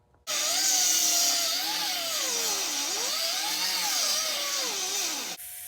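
A power tool cuts into an exhaust header pipe on a Kyle Petty Hot Wheels car, a loud continuous grinding whine whose pitch wavers up and down for about five seconds before stopping abruptly.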